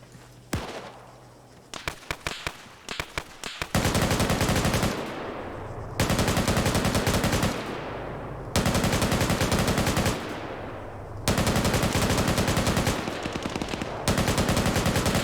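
Video game gunfire: a few short sputtering bursts, then long sustained loud machine-gun volleys in four extended strings separated by brief pauses, dense and close.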